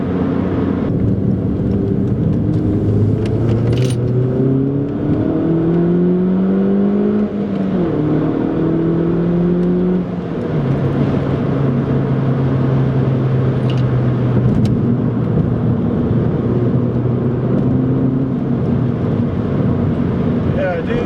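An R56 Mini Cooper S fitted with an Alta blow-off valve spring accelerates from inside the cabin, its engine note rising and falling through several gear changes under steady road and wind noise.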